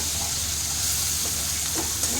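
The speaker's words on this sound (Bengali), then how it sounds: "আরও 2-4 মিনিট আমি ভাজবো" Hilsa fish frying in a pan, a loud, dense, continuous sizzle with faint crackling throughout, close and alone without voices.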